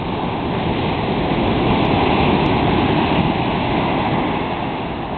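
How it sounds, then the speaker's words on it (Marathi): Big ocean waves surge at a Chennai beach, a loud, unbroken roar of churning surf that fills the whole stretch close at hand, with no voices over it. "पाण्याचा वेग आणि खूप वाढतोय. वा, खूप मोठी लाट आहे."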